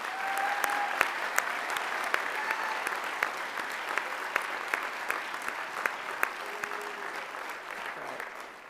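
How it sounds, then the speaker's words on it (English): A crowd at a university honors convocation claps for honored students. The dense applause continues steadily for several seconds, with sharp individual claps standing out near the microphone before it tapers at the end. "Can we get one more round of applause for our AU scholars?"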